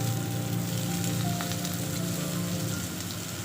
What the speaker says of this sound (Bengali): শিম আলুটা ভাজা ভাজা হয়ে এসছে, এবার আমি এর মধ্যে মূলোগুলো দিয়ে দিচ্ছি